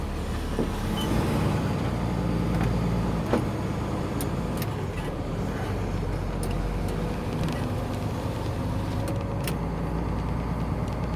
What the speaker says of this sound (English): I always see cars pulling up and leaving around here.